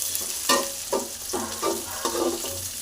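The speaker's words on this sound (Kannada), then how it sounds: "ನೋಡಿ, ಬಟಾಣಿ ಹಾಕಿ ಈ ಥರ ಫ್ರೈನ ಮಾಡ್ಕೋಬೇಕು." Peas and capsicum fry in a pan, stirred in repeated scraping strokes about every half second over a steady close sizzle, with no talking.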